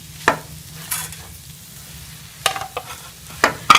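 Spiced potato samosa filling with chilies and mint being stirred in a pan, a few distinct scraping strokes spread out with quiet pauses between them, over a low steady hum.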